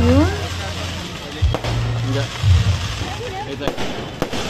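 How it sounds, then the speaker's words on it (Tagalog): Sharp booming pops of fireworks burst at intervals, loud and close, with a voice speaking between the blasts. "Ayan. Fireworks."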